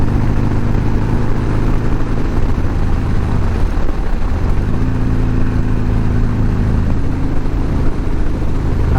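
A Harley-Davidson motorcycle cruises along a winding road at sunset, its engine giving a steady, loud rumble mixed with wind noise, held at moderate throttle without hard revving throughout.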